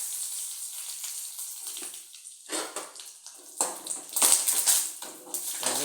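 Curry leaves and mustard seeds splutter in hot sesame oil, uneven bursts of crackling and spitting that swell and fade, growing louder and busier toward the end.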